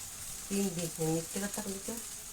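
Chow mein is stir-fried with carrot, onion, potato, soy sauce and egg in a home kitchen. A steady soft sizzle hisses in the background under continuous conversational speech.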